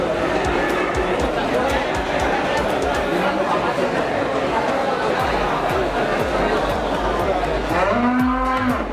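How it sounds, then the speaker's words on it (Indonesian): Limousin cattle lowing amid a busy, chattering crowd at a cattle market, with a loud, drawn-out moo rising clearly near the end. "Ini ada sapi jenis limusin."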